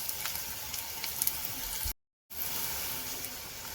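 Slices of bitter gourd shallow-frying in a pan make a continuous close hiss and sizzle, broken by a brief moment of total silence midway before the frying resumes.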